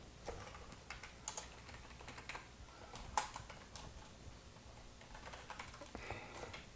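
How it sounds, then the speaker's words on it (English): Two-finger typing on a computer keyboard, irregular and hesitant key taps at close range, quiet and alone with no voices. "You can see that my typing is really bad."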